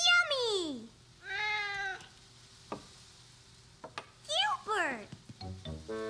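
A cat gives a few drawn-out meows, close by, with short pauses and some light clatter between them.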